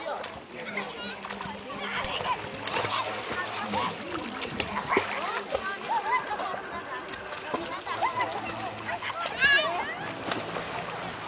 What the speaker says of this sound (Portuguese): Já tá nadando, William.